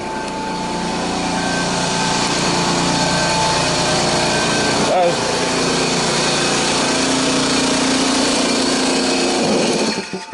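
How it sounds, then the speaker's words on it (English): A small air compressor running on power from a large solar inverter and 100 amp battery, drawing close to 1000 watts, makes a loud, steady motor drone with a brief blip midway before winding down at the end. "I was pretty happy to find out that it would run that compressor."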